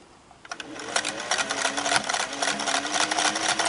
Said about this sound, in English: I'm going to sew it again and then show you how to do the double coverage